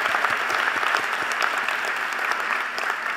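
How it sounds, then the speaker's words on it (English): A university presidential installation audience gives alumni a round of applause, dense continuous clapping filling the hall at an even level throughout. "Give them a round of applause"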